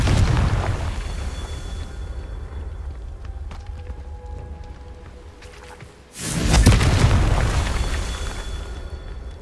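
A Confringo fire spell in the Hogwarts Legacy video game goes off as a sudden loud, booming blast partway through, rising out of a low rumbling backdrop and then slowly fading away.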